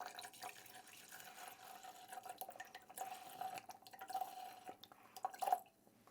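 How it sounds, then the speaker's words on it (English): Water pours into a kettle being cleaned with vinegar, a faint trickling and dripping stream with small splashes that grows a little busier near the end. "we are going to top up with some water"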